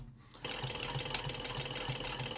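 Post bed sewing machine with a knee lift running steadily at a slow pace of about 200 RPM, a soft, even mechanical hum with a regular pulsing beat starting after a brief quiet moment.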